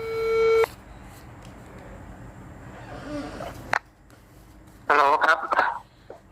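A telephone gives a sustained electronic tone that cuts off abruptly, followed after a pause by further short beeping and tonal bursts, with no talk.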